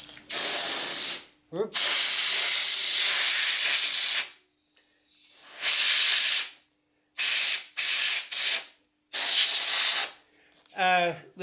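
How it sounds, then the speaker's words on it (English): Compressed air blasted in short repeated bursts to clear sawdust from an engraved wooden puzzle, loud close hissing squirts separated by brief silences, with a few words spoken between. "the engraving has got lost with the sawdust, so a quick squirt of some air"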